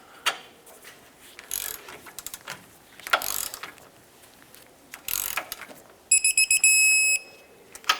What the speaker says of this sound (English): Let's tighten this up and torque them to 101 foot-pounds.